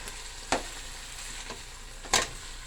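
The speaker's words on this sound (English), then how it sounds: "turn over the shank and make sure that both sides get sauteed" A lamb shank sautés in a pan, Mediterranean style, with a constant low sizzle broken by two sharp clicks of it being moved, and no one speaking.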